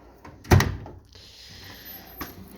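A hammer drawer on a tool chest is pulled open: one solid thump, then a smooth metallic slide that rolls on briefly before a faint knock, heard up close in a quiet room.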